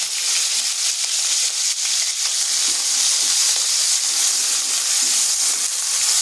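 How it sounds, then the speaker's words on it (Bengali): Onion paste hits hot oil with whole cumin in a pan, giving a dense, steady close-up sizzle and frying hiss that carries on throughout with no talk. "এরপর দিয়ে দিচ্ছি একটা পেঁয়াজকে পেস্ট করে নিয়ে।"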